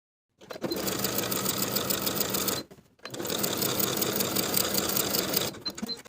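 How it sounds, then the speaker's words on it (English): A sewing machine stitches a skirt's back seam with a half-inch seam allowance and backstitching, running in two steady close-up bursts of rapid mechanical whirring separated by a short pause. "I'll start sewing at the marked point below the zipper, backstitching to secure with a 1/2 inch seam allowance to the bottom of the skirt"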